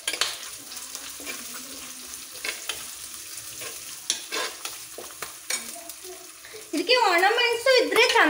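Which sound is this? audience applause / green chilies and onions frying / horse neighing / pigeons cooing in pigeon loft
green chilies and onions frying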